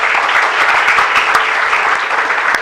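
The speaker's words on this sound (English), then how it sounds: "So let's have an applause for that to warm up with." Applause from the audience fills a university convocation ceremony hall, a steady, loud wash of many hands clapping without a break.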